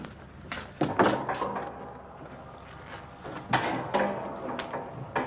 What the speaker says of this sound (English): there's a folding bed behind this door